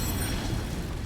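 The Incendio fire spell cast in Hogwarts Legacy, a brief loud whooshing burst of flame with a rumbling low end, filling just over a second.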